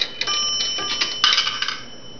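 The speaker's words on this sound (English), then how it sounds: "It's a nice loud one ring dime." A dime dropped into an Automatic Electric three-slot pay phone strikes a single bright bell, and the clear metallic ring hangs and slowly decays at close range.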